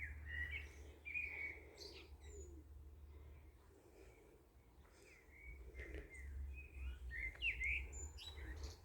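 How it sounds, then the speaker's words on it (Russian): Birds chirp and tweet in short bright bursts over a steady low rumble, with scattered calls coming from several directions at moderate distance. "как птички поют, да?"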